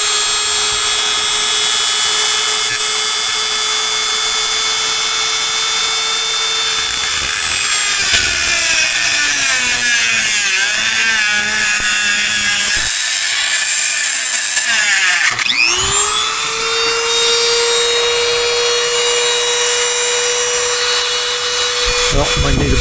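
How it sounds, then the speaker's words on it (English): A die grinder cuts a metal tube with a loud, close, whining motor whose pitch sags as the wheel bogs into the metal, nearly stalls, then quickly spins back up to a steady scream. "I'm just going to take my dry grinder, because I can't get in there with anything else, and just cut that tube"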